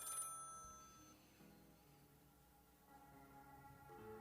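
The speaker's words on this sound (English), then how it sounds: "the phone rings again and again and again" A telephone bell ringing repeatedly, a faint, distant trill that recurs over a low background, quiet throughout.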